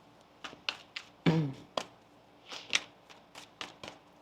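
A deck of tarot cards is shuffled by hand in a quiet room, with a string of soft riffles and crisp taps, one longer ruffling burst in the middle, close and faint.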